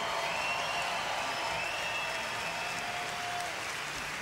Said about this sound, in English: Let's have a big hand for Joe Weider.